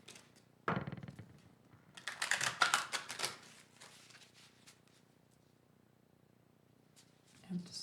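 Crisp papery riffling and snapping of a Shadowscapes Tarot card deck being shuffled, a few quick bursts of card flicks up close with quiet pauses between them.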